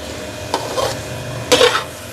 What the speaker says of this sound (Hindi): अभी हम इसको और भूनेंगे